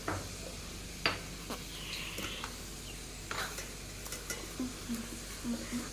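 Potatoes frying in a pan as a second fry, with a ladle stirring through them: a soft sizzle runs under a few sharp scraping clicks and knocks, and faint bits of background voice come and go.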